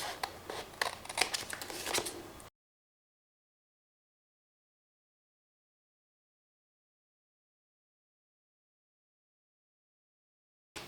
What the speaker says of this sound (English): Trim in the areas that need trimming. Let's do it with scissors.